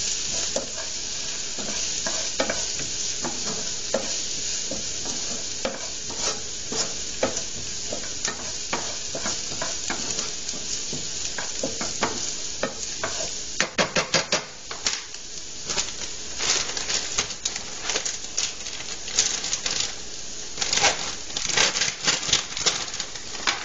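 Garlic and vegetables sizzling in a hot pan, a continuous crackling fry with frequent stirring scrapes and spatula taps that grow busier toward the end, close and without speech.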